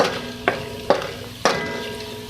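A spoon works crushed red chillies through hot oil in a pan, three distinct scraping strokes over a soft steady sizzle, close and fairly loud.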